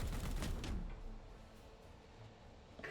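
Gunfire in the video game Warhammer 40,000: Chaos Gate, a burst of heavy shots at the start that fades into a dull rumbling tail, fairly faint.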